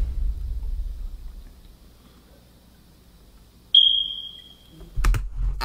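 A smoke alarm with a low battery gives one short, high electronic chirp midway through an otherwise quiet room, followed by a few soft clicks and thumps.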